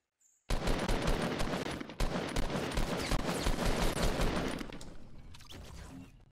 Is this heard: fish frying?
no